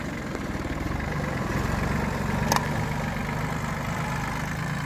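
Ransomes tractor engine running steadily at a low idle with a continuous, even rumble, close by and alone, with no audible revving.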